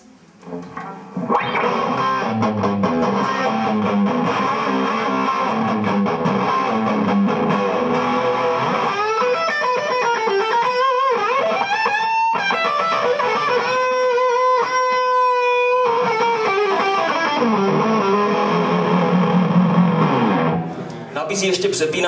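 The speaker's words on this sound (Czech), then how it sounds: "Maximální možný zkreslení, co z toho můžeme dostat." An electric guitar plays through a Fulltone OCD overdrive pedal set to maximum distortion and switched to high peak, giving sustained saturated chords and notes that ring out loud and alone for about twenty seconds.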